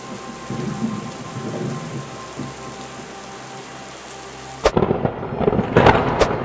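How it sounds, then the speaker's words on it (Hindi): Heavy rain pouring down in a forest, a loud continuous hiss that suddenly swells into a harsher, more intense downpour with sharp bursts near the end. "बारिश थमने के बजाय और तेज होती जा रही थी"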